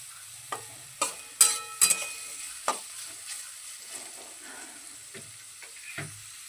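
Carrots and beans for vegetable pasta fry in a pan with a low sizzle, while a spatula clanks and scrapes the metal in a few loud strokes early on, then quieter stirring.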